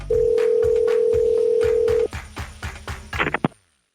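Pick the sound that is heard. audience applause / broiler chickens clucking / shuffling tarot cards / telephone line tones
telephone line tones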